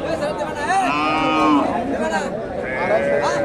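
Cattle low with drawn-out, rising and falling calls at a Dakumara cattle market, where cows and calves are sold. The calls overlap steadily and fairly close, under constant crowd chatter.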